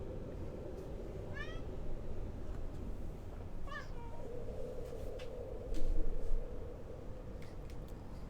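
A cat meows loudly twice, with sharp rising cries close by over a steady background hum, and a brief burst of other noise follows.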